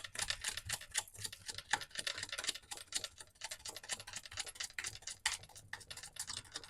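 Tarot cards are shuffled by hand, making quiet rapid crisp flicks and clicks in a continuous irregular patter with no talking.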